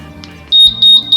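Three sharp electronic beep tones from a Forza 350/300 scooter alarm remote, each high-pitched and steady, sounding close and loud with short gaps between them.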